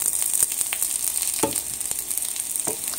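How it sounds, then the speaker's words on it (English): Spinach potato pierogies frying in a pan, slightly burnt, a steady close hiss of sizzling oil with soft scrapes and taps from stirring. "eat a piece and then I'm stirring your pierogies"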